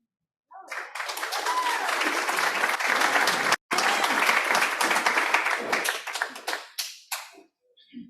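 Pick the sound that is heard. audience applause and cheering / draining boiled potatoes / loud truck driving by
audience applause and cheering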